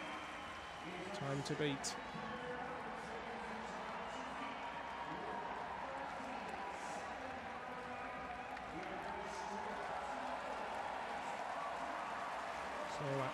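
A packed velodrome crowd at the London 2012 Paralympic track cycling 1km time trial gives sustained, broad applause and cheering, steady throughout under an announcer's commentary.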